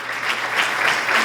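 A brief, fairly loud burst of audience applause at an investor event in Ecuador, dense clapping sustained evenly throughout with no voices over it.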